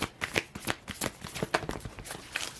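Tarot card decks being shuffled by hand, a close run of quick riffling and slapping bursts in an uneven rhythm, with no voices.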